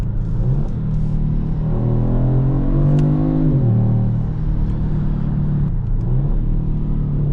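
A Kia Stinger GT drives on the road, its engine a loud, close, steady hum that climbs in pitch under acceleration and then settles, with no talk.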